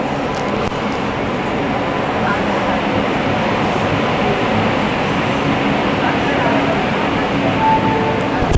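A train departing Nagpur station rumbles steadily, a continuous loud roll of wheels and carriages close by at a railway platform, with a voice faintly in the mix.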